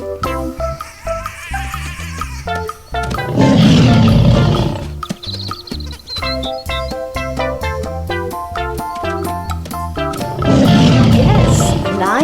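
A lion roars twice amid a backdrop of music, with loud, deep roaring bursts rising over the steady musical accompaniment in a children's animal quiz.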